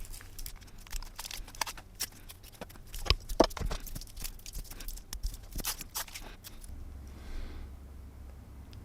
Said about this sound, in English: Let's go ahead and get these stickers off.